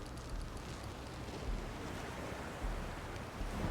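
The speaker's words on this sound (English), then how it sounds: "Can you hear the waves" Ocean waves wash continuously in the pirate stealth game Shadow Gambit: The Cursed Crew, a broad hissing surf with gentle swells rising and falling, steady and moderately close with no voices.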